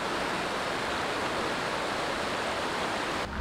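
Continuous broadband roar of shallow river rapids on the Vantaanjoki at Tikkurilankoski, close and steady with no voices.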